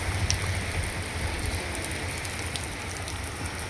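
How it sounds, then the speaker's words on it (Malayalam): Steady, dense rain pouring down continuously over mango orchards in Kollengode, a heavy hiss with scattered drips and patters on surfaces, no voices. "നല്ല മഴയാണ് പെയ്തുകൊണ്ടിരിക്കുന്നത്"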